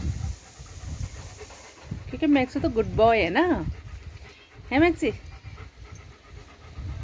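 A dog pants rapidly and steadily near water, a close, breathy rhythm running the whole time while a person talks over it in a soft, affectionate voice.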